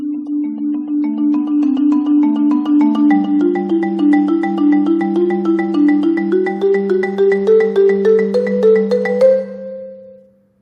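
Two-mallet percussion on a keyboard instrument plays a melody with rapid rolled notes, while low sustained drone notes stay too loud and swamp the higher tune, ringing steadily until a final release.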